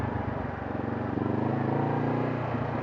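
A Honda CBR 500 motorcycle idles at close range on a track day, its exhaust giving a steady, even burble that swells slightly partway through, with no talking over it.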